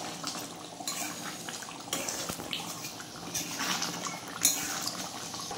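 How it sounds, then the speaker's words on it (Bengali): Meat curry is stirred in a pot with irregular scraping and clinking of a utensil against metal, near and moderately loud, with watery bubbling under it and no voices. "এটা নেড়ে চেড়ে নিলাম।"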